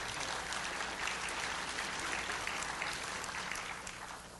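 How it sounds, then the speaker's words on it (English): An audience applauds steadily throughout a lecture session, a dense wash of clapping at moderate distance with no voices over it. "can you sort of leave your applause to the end of each session"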